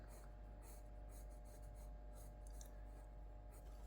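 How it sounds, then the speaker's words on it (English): A pencil drawing lines on paper, close scratchy strokes in short repeated bursts over a low steady hum, quiet and without talk. "we can draw this across here"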